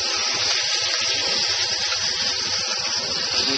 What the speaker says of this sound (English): The oil is sizzling